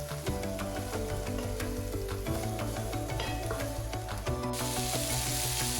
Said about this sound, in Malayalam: ഇപ്പോൾ നമ്മളെ വെജീസൊക്കെ ചെറുതായിട്ട് വഴറ്റി വന്നിട്ടുണ്ട്